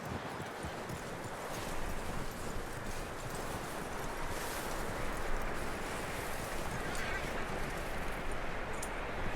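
Horse hooves clip-clop in a video game, soft and steady under a faint outdoor ambience, with a horse moving at an even pace.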